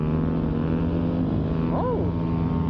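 Kawasaki KLX 300 dirt bike engine droning loudly and steadily, close up, with a brief rising rev near the end and no clear speech.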